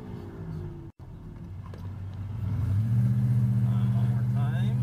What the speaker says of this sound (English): we're just seating our brakes over here